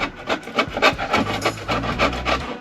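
A tool scrapes a shoe sole with steady, rhythmic back-and-forth rasping strokes, about a dozen in quick succession, close and fairly loud.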